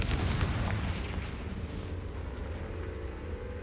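Confringo fire spell blast in the Hogwarts Legacy video game: a heavy rumbling explosion that opens loud, then trails into a long, dense roaring decay with no pause.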